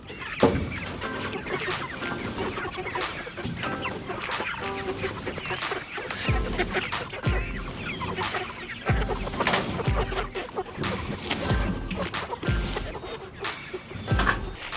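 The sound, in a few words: chicks clucking as their tractor is moved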